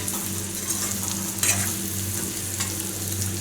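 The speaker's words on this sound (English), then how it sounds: "We will mix it like this" Egg roast being stirred in a pan: a continuous, fairly quiet sizzle with a brief louder scrape of the spoon midway and a few lighter ones later, no talking.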